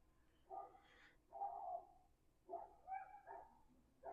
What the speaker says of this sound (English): it's just the dog from down there